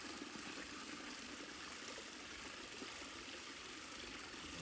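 Water still trickling from a borewell pipe, a steady broadband splashing and running flow that stays even and continuous throughout, close and moderately loud with no voices.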